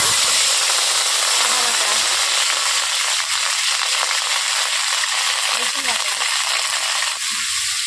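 Chili paste sizzles loudly and steadily in hot leftover soybean-frying oil in a wok, a dense, continuous hiss with faint stirring clatter underneath.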